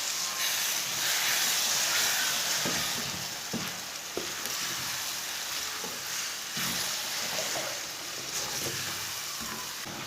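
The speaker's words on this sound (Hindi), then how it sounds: "इसे अच्छी तरह मिक्स करके 2 मिनट के लिए भून लेंगे। इसे मीडियम आंच पर भूनना।" Shredded cabbage and beaten eggs frying in a pan over medium heat, giving a steady loud sizzle and hiss throughout, with faint scraping stir sounds and no speech.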